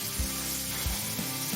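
Mushrooms frying in butter in a pan, an even, close sizzle with a few soft low knocks underneath.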